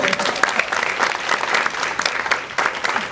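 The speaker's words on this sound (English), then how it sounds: "Well done, give it a round of applause" A short, lively round of clapping from a small room audience at a spelling-bee style event, dense and steady for a few seconds.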